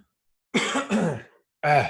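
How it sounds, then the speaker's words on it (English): Three rough, throaty coughs up close, the first two back to back and a third after a short pause. "Sorry to cough in your ear."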